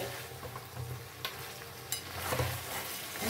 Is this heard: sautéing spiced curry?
yes